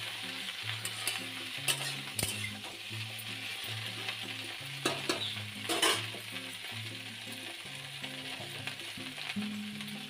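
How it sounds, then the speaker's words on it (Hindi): Okra tempering in hot oil with green chilli and cumin, a steady close sizzle and crackle with occasional sharper pops and stirring scrapes, no talking over it. "मैंने छौंक दी है, तेल वगैरह डाल के, हरी मिर्च जीरा सब डाल के छौंक दिया है"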